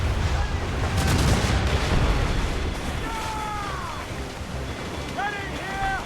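Ship cannons booming in a naval broadside during a sea battle in Assassin's Creed Rogue, heavy rumbling blasts over constant wave and wind noise, with whistling projectiles streaking overhead.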